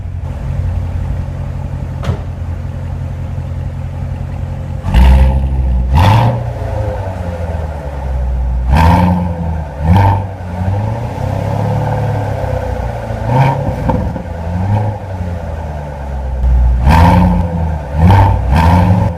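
A 2014 Chevrolet Corvette Stingray C7 convertible with a 6.2-liter direct-injection V8 rumbles at idle, then barks through repeated sharp revs that rise and fall, deep and close, with no talking.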